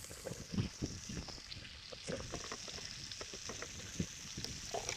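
Scallops sear in a hot pan, a quiet, steady sizzle with occasional soft pops and clicks, fairly faint and close, no talking.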